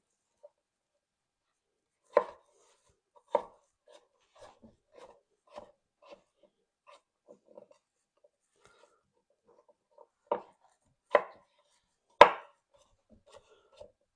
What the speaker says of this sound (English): Almost done with the dicing.